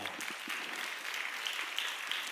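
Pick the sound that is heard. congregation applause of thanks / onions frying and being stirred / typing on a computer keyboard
congregation applause of thanks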